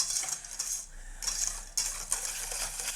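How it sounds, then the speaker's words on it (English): Whisk or utensil stirring egg-tart custard in a bowl, with close, bright clinking and scraping in bursts separated by short pauses. "I'm just mixing"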